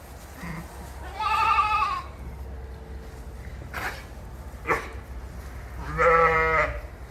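Sheep and lambs bleat in a farm pen during lambing, a few loud wavering calls spaced apart with quieter bleats and rustling between them, close by and with no talk.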